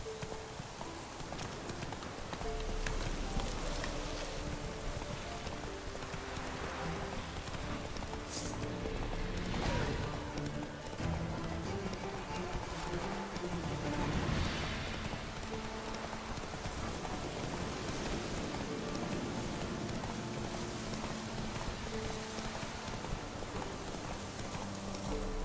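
Geralt's horse Roach galloping in The Witcher 3: Wild Hunt, a fast continuous clip-clop of hooves with a steady rhythm over a dense, rain-like wash of ambient noise, fairly loud and without talk.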